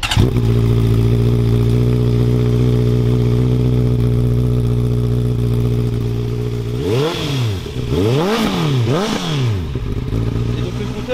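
A Honda CBR650R with its exhaust baffle removed idles loudly and steadily up close, then gives three quick throttle blips that swoop up and fall back.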